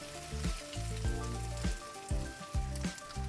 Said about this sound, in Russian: как приятно они шипят на сковороде